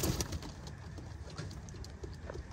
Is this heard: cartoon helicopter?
no